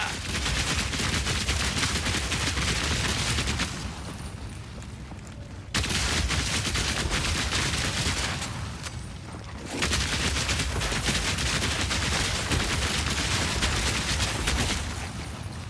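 Rapid bursts of gunfire from a video game, dense and loud, rolling almost continuously with two brief dips in intensity, no talking over it.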